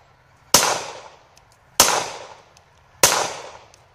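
Three sharp, loud gunshots from cheap black powder rounds fired at a watermelon, spaced evenly about a second apart, each with a long ringing decay outdoors.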